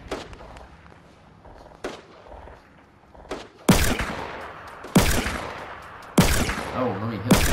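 Gunfire in a Fortnite 50v50 match: several loud, sharp, close shots at spaced intervals, each cracking and then echoing away, with softer distant shots between them and faint background game sounds.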